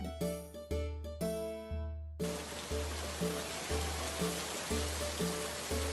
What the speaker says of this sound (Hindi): तभी जोर की बारिश हुई।